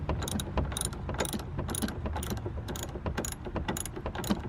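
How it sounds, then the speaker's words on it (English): A ratchet tightens the top nuts on a rear strut of a 1996 Toyota Camry, giving rapid, close, repeated pawl clicks in short bursts of regular strokes, with no talking. "I'll put the other two nuts in and tighten those and then get down to the bottom again"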